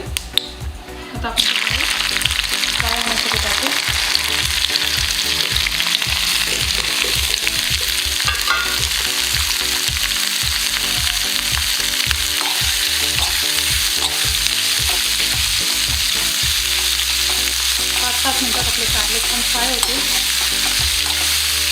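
Bitter gourd, rubbed with turmeric and salt, fries with mustard seeds in a hot kadhai, giving a loud, steady sizzle that bursts in after a soft start, with frequent utensil scrapes and clinks from stirring throughout.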